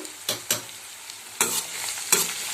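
Tomatoes fry with onions in oil under a soft sizzle while a spoon stirs them, giving five or so distinct scraping strokes at uneven intervals, close and moderately loud.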